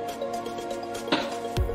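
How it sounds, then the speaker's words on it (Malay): A cup of cooking oil poured into chocolate cake batter in a home kitchen, making soft, faint liquid glugs and a brief squish close by over a low background hum. "Lepas tu kita masukkan 1 cawan minyak masak."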